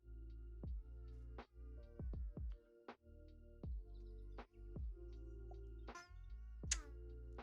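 A congested, grumpy cat meows repeatedly nearby, a series of short and drawn-out cries with brief pauses, clear and alone in a quiet room.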